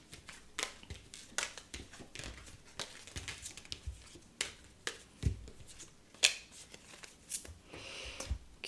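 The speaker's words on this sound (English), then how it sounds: "Let me just tidy some of these cards away" Tarot cards are gathered and tidied into a pile with soft, quiet shuffling, flicking and slapping sounds, coming in irregular close bursts.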